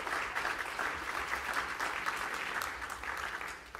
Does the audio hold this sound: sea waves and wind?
no